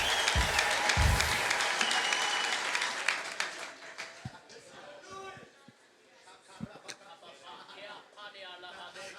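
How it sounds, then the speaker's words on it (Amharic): A church congregation claps loudly for about three seconds, then the applause fades and a preacher speaks over scattered murmurs and claps. "በቃችሁ አጨብጭቡ፣ በቃችሁ አጨብጭቡ።"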